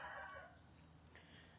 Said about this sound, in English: I know my chickens are noisy.